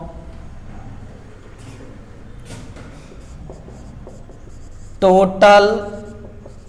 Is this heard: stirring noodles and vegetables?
no